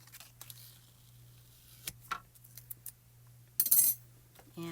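Scissors snipping around a paper die cut, giving soft, sparse crisp cuts and faint clicks over a low steady hum, with a louder rustle of paper near the end.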